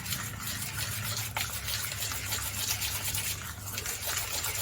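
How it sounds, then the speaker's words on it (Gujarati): Khaman dhokla batter is whisked briskly with baking soda in a bowl, a steady close wet swishing and beating with a brief clink partway through. "એક ચમચી જેટલા ખાવાના સોડા નાખી દઈશું અને તેને સારી રીતે ફેટી લઈશું।"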